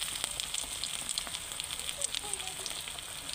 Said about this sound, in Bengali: বেগুনটা ভাজা হয়ে গেছে, তার জন্য তেলটা গরমই আছে, ওর মধ্যে আমি দিয়ে দিলাম গরম তেলে